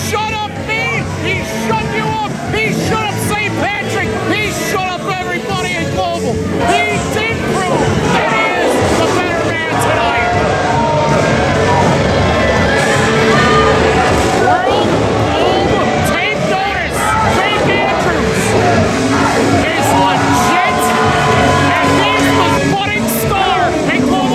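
An angry wrestling crowd keeps up a loud, churning roar and scattered shouts throughout, with a commentator talking over the noise the whole time.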